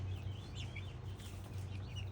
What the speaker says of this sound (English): I'm thinking this guy is definitely one of our roosters.